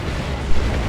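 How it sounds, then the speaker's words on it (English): Plasma cannon shots from Dawn of War 2 landing in a loud, dense rumble of explosions, with one sharper impact partway through the burst. "Plasma cannon shots going in."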